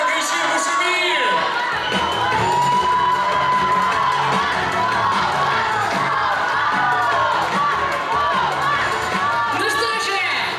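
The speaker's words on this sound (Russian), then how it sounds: "Аплодисменты, давайте покричим, пошумим." At a university Miss and Mister 2019 awards ceremony, a hall audience applauds, shouts and cheers loudly and without pause. Whoops and voices rise out of the dense crowd noise.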